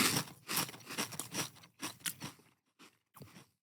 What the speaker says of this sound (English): crunching the chips